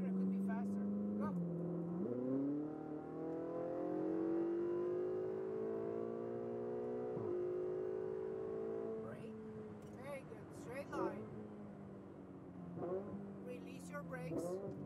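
A Ferrari 488 GTB accelerates on a track in Las Vegas, its engine note climbing steadily through the gears with brief dips at the shifts, loud and close from the cabin, with an instructor talking over it.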